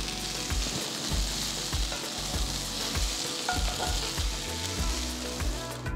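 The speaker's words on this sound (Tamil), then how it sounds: "அடுத்து வெங்காயத்தால் வெங்காயம் சேர்த்து வதக்குங்க" Onions sauté in a hot pan for spicy garlic chicken, a dense continuous sizzle with rhythmic scraping strokes of a spoon stirring throughout, close and steady with no talk.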